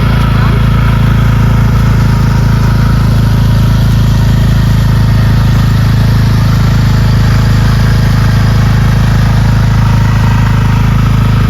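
A motorcycle engine runs steadily throughout, a continuous low rumble close by with no breaks.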